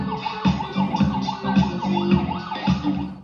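A wailing emergency siren rises and falls repeatedly, muffled as if heard from inside a car, mixed with music and road noise.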